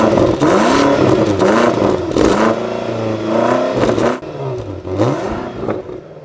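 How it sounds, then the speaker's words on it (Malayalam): BMW XM hybrid performance SUV revving hard through its exhaust, with loud rising and falling engine sweeps and sharp throttle blips across several seconds, close and without speech. "8ാമത്തെ കാര്യം എക്സോസ്റ്റ് നോട്ടാണ്. വ്യത്യസ്തമായിട്ടുള്ളൊരു എക്സോസ്റ്റ് നോട്ട് എന്നുള്ള രീതിയിൽ നമുക്കിതിനെ കൺസിഡർ ചെയ്യാം."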